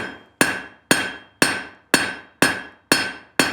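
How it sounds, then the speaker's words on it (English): Cross peen hammer drawing out steel at a historic site forge, eight sharp ringing metallic strikes in a steady rhythm about half a second apart, each with a bright decaying ring, loud and close with no talk. "Start to draw that metal out. I'm going to use the cross peen."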